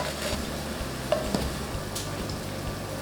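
Onions sautéing in a pan for a mushroom gravy, giving a quiet, steady sizzle with a few faint scrapes and taps of a utensil and no talking.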